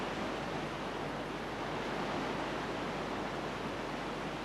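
The fast-flowing River Troer rushes past in a dense, even roar of surging water, steady and close throughout with no voices.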